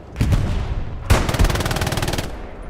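Bursts of automatic machine gun fire in a tactical shooter match: a short opening volley, then a loud, sustained rapid rattle of evenly spaced shots lasting over a second, close and alone.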